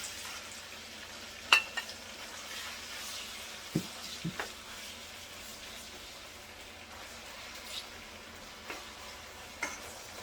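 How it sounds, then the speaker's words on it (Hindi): Minced meat frying on high flame in about half a cup of oil in a kadai, giving a quiet, steady sizzle broken by a few sharp ticks and spatters, with no voices. "अब हम इसमें शामिल करेंगे कीमा, और इसे हमने अच्छी तरह से भूनना है इस ऑयल में।"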